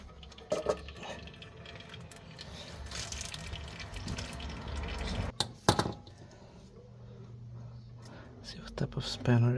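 Oil drains out of a Mazda RX-8 engine with a soft, continuous trickle and scattered drips, joined by occasional clanks and handling noises and a faint murmuring voice.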